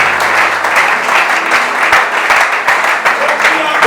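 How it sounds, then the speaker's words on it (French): An audience at a Christian gathering applauds to welcome a preacher, a loud and steady wash of clapping that holds throughout, with a voice speaking over it. "Acclamons pour la présence de l'homme de Dieu"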